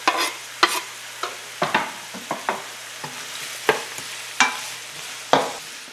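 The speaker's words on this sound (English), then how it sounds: "give this a bit of a fry for about 3 minutes or so" Sausage stir-fry with minced garlic frying in a pan, a soft steady sizzle broken by frequent sharp scrapes and clacks of a spatula stirring, close by with no talking.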